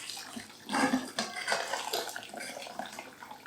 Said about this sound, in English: Now we'll drain the potatoes